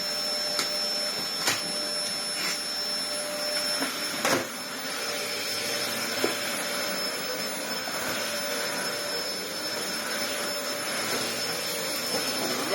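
A worn, secondhand Dyson vacuum cleaner runs steadily with a continuous motor whine and airflow roar, close and fairly loud, with a few brief knocks and handling bumps and no talking.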